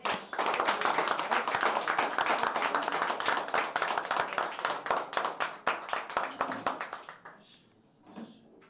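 Audience applause at a Zodiac party game tournament, dense continuous clapping from a group that thins into a few scattered claps before fading out, with a brief voice near the end.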